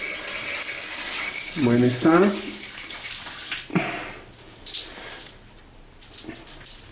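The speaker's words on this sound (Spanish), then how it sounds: "Ducha funcionando" A bathroom shower runs with a steady hiss of falling water, a voice speaking briefly over it near the start before the spray continues alone, sputtering slightly toward the end.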